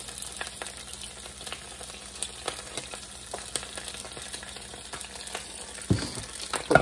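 Eggs topped with cheese frying in a covered pan, a steady low sizzle with scattered light crackles and a couple of louder lid or utensil clicks near the end.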